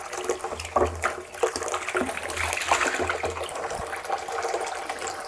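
Steady rushing and spattering water from a garden sprinkler wetting areca nut trees, a continuous broad hiss with fluctuating droplet patter, moderately close with no talking.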